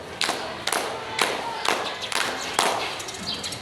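Group of students in a counselling session clapping in a counting game, with about six separate sharp bursts of claps spaced roughly half a second apart, fairly close and moderately loud.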